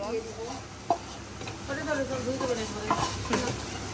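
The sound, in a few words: stirring chicken pasta in a pan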